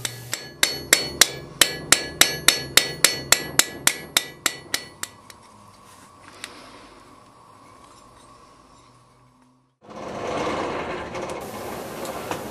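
A blacksmith's hammer strikes a rivet head on a forged spring latch, about twenty sharp metallic blows in a quick even rhythm. A quiet pause follows, then a loud, broad rushing noise.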